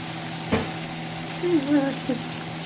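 Food sizzles steadily in a pan with a soft hiss, broken by a brief clatter and a few short squeaks, no talking.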